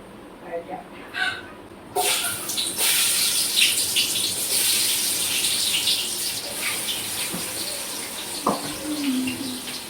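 A tap runs steadily for several seconds as onions are washed clean of grit, the water gushing and splashing continuously with a little clatter at the end.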